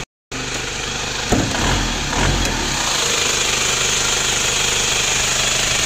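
A 1997 Isuzu Panther Grand Royal engine running, a steady close mechanical drone with a rattling tick, briefly rising in two short revs before settling back to a constant idle.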